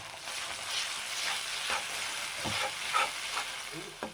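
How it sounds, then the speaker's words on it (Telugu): Ginger being stirred into masala frying in a pan for chicken fry, a steady soft sizzle with light scraping strokes throughout, no voices. "అల్లం వేసుకొని బాగా కలిపెట్టుకోవాలి."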